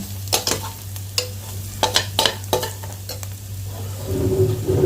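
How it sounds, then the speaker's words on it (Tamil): Onions and drumstick pieces frying with chili powder in a pan for a Tamil masala curry, stirred with a spoon in a series of sharp scraping strokes over a steady sizzle, close and alone. "மிளகாத்தூள் சேர்த்ததும் அதை அப்படியே நல்லா இந்த வெங்காயம் முருங்கைக்காயோட மிக்ஸ் ஆகிற மாதிரி நல்லா அதையும் கிண்டி விட்டுருங்க"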